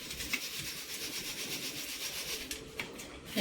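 Roasted peanuts rubbed between the hands to loosen their skins, giving a steady close dry rustling and scratching with a few brief crisp bursts, no talking.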